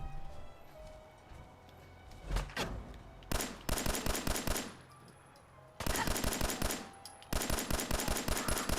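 Automatic weapon fire from a night vision gun in Fallout 4's Far Harbor, heard as a few single shots followed by three long, rapid, loud bursts of gunfire separated by brief pauses.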